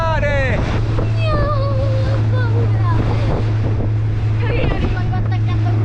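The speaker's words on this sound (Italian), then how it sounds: "Mare in tempesta! Sta facendo buio e siamo in mezzo al mare!" Stormy sea at dusk on a boat off Sardinia, with heavy wind buffeting the microphone, waves washing and a low engine hum throughout, while a person shouts over the din.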